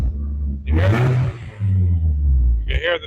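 Two strong revs from a BMW E36 engine through an electronic valve exhaust rise and fall over a deep idle rumble, heard up close with a short voice at the end.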